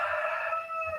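A rooster crows in Colombia, one sustained, strained call that sounds distant and faint, with steady harmonic tones running through the whole second over a quiet room.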